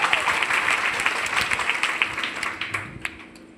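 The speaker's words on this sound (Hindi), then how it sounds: "जोरदार तालियां सर के लिए" An audience bursts into vigorous clapping for a teacher, a thick wash of hand claps with a few crisp standouts that thins and fades near the end.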